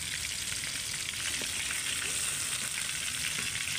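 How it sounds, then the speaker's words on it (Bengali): Flour-coated lote (Bombay duck) fish fry in hot oil with a loud, continuous, crackling sizzle that holds steady throughout, close up and without any talking. "ঠিক এরকম করেই ভেজে নিলে হবে।"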